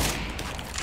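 Counter-Strike gunfire in a match, a short, loud burst of shots merging into one dense blast that fills the whole moment with no talk over it.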